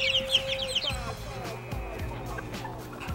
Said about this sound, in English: What kind of chickens are they? They're called Freedom Rangers.